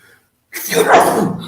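A single loud, close sneeze bursts out after a moment of silence, broad and breathy, trailing off over about a second.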